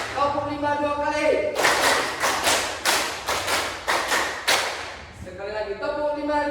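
A group claps hands together in a rhythm game, a run of sharp, loud, evenly spaced claps about four seconds long, with a voice speaking before and after.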